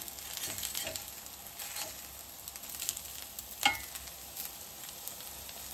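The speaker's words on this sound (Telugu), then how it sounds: "ఆయిల్ వేడైంది. సో ఇప్పుడు మనం నెమ్మదిగా దీంట్లోకి ట్రాన్స్ఫర్ చేసుకుందాం." Kebabs fry in hot oil, giving a quiet, steady sizzle and crackle with a few soft pops and clinks throughout and no talking.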